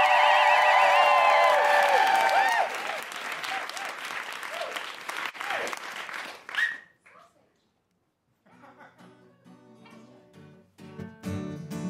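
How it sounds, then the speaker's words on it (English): A live comedy podcast audience bursts into loud clapping and whooping cheers, dense and close at first, then thinning and fading into near silence before music and a voice come in. "Please welcome, with your best clapping and woohooing,"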